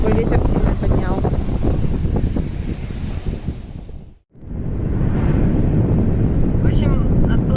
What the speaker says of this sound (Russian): Такой ветер сильно поднялся.